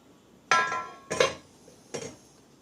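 A metal cake tin of eggless marble cake batter set down on a hot dosa pan: three sharp metallic clinks and clanks, close and separate, with quiet in between.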